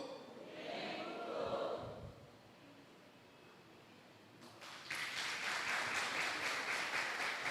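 A church congregation claps during a Sunday service: a quieter muffled stretch first, then a sudden louder wave of many hands clapping that carries on to the end, with no speech over it.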